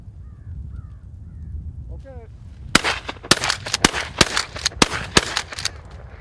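Crows cawing during a snowy crow hunt in northern Michigan: a few faint, distant caws come first, followed by a rapid series of loud, sharp gunshots.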